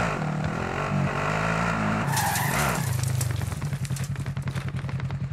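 A car driving in Call of Duty: Warzone, its engine droning loud and close as the tires squeal into a skid, then settling into a steady pulsing rumble as it accelerates away.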